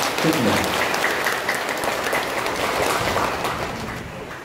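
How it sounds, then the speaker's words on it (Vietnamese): Sustained applause from a church congregation at a Mass, steady and dense clapping throughout, tapering slightly toward the end. "xin anh chị em cũng vỗ một tràng pháo tay nữa để chúc mừng"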